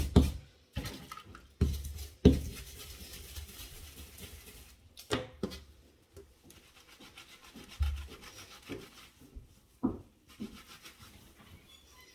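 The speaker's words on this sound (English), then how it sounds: "I'm still just scrubbing" A brush scrubs an ink stain out of a bathmat in repeated bursts of close, gritty rubbing, with uneven pauses and occasional hard knocks between strokes.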